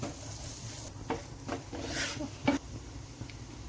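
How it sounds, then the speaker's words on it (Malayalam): Chopped garlic sautéing in oil left from frying prawns, a steady close sizzle with a few scraping stirs of a utensil against the pan. "നമ്മൾ ആ സെയിം എണ്ണയിലേക്ക് ഒരു 2 ടീസ്പൂണ് വെളുത്തുള്ളി ചേർത്ത് കൊടുത്തു. ഒന്ന് സോട്ട് ചെയ്യുക"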